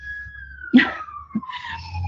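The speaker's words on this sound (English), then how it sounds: "Sorry about the siren." A loud fire station siren wails in a long, slowly falling tone, with a couple of brief thumps and some background clatter.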